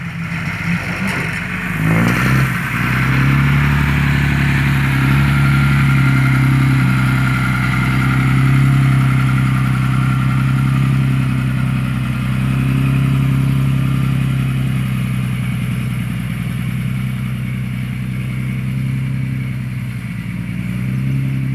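A backhoe excavator engine works at a pit, a loud, close, continuous engine drone that holds steady throughout with slight load changes.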